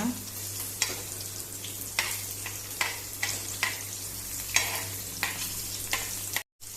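Anchovy fish fry on a flat tava in a Goan kitchen, a steady crackling sizzle punctuated by regular bursts as pieces are turned or pressed, close and fairly loud, cutting out briefly near the end.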